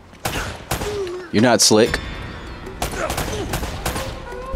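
Uncharted: Drake's Fortune gunfire comes as scattered sharp shots and short bursts mixed with game sound effects, while someone talks over parts of it.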